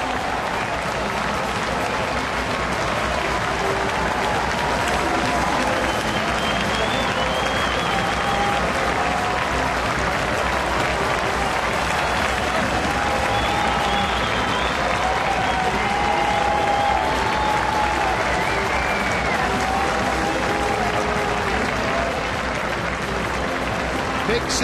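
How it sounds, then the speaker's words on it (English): A baseball stadium crowd at a Yankees–Toronto game roars and claps in a sustained, dense swell as the closer enters from the bullpen, with a broadcaster talking over the noise. "you can hear the crowd react"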